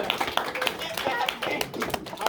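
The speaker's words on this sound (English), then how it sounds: "round of applause for that one" Scattered classroom clapping for a witness during a high school English class mock trial, uneven claps from a small group with voices talking over them.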